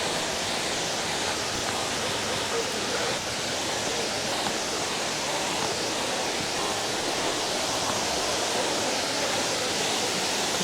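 Shower Waterfall in Cat Cat Village, Sapa, pours in a steady, loud, broadband rush of falling water that continues unbroken throughout, heard close to its base along a rocky path.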